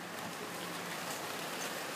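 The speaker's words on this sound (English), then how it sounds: "As you can see, it's a rainy one." Steady rain falling in California, an even, continuous hiss of drops filling the whole clip at moderate level, with no voices over it.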